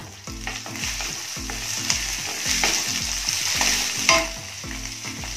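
Boiled peas being stirred into maize dhokla batter, a steady rhythmic scraping and mixing in a bowl repeating about twice a second, close and clear with no talk.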